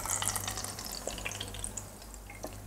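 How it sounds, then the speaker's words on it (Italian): Water poured from a watering can onto a potted plant in a self-watering pot, a steady close trickle and splash with scattered drips. "Adesso prendiamo un annaffiatoio con dell'acqua e annaffiamo in maniera uniforme"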